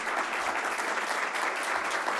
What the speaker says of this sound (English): give her applause, there you go